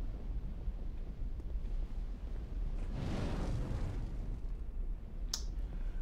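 A big fire over lava in Dark Souls II: a steady low roar that swells into a rushing, crackling surge midway, then settles back, with a single sharp click near the end and no talking.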